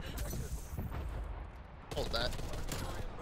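Artillery strike explosions and gunfire in the Black Ops Cold War video game, a dense burst of blasts and rumble under a player's brief voice.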